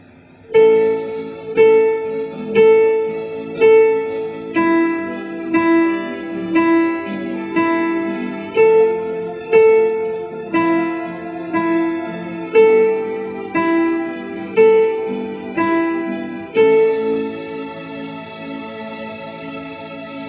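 Simple tune of alternating fretted and open-string notes played over a backing track with a rhythmic pulse, clear and steady throughout.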